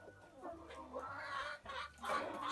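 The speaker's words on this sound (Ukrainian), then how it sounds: "де наша хворенька курочка? А, ось вона оця сівенька" A small grey hen, sick with a respiratory rattle, clucks repeatedly in short close calls, with a faint voice in the background.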